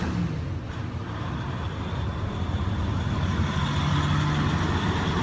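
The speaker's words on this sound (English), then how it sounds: "it's a truck passing" A truck rumbles past on a highway in a steady, loud, broadband roar of engine and tire noise that holds throughout, with a low droning tone swelling toward the end and no speech.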